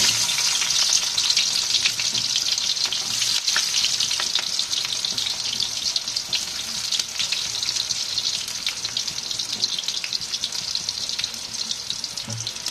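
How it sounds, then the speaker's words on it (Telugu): Sliced onions frying in well-heated cooking oil, a loud, steady, close sizzle that continues without a break and with no one speaking. "నూనె అయితే బాగా వేడెక్కింది. ఇప్పుడు ఆనియన్స్ వేసుకోవడమే"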